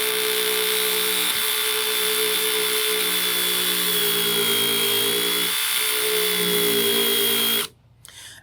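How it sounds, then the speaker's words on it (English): A DeWalt 18-inch band file sands metal flashing with a loud, steady, continuous grinding whine that holds for several seconds before cutting off abruptly near the end, leaving a brief quieter tail. "Now you can see with this band file, you can make some really aggressive and deep cuts."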